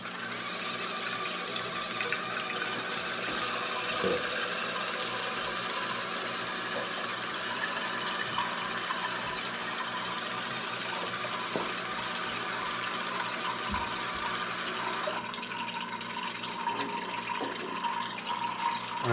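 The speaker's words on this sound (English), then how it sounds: "we're doing a volume rate of flow test with our peristaltic pump, trying to figure out basically how many mils per minute that we're flowing" A small peristaltic pump moves water during a flow rate test, a steady close whirring hum with trickling liquid that runs continuously, shifting in tone near the end, with no speech.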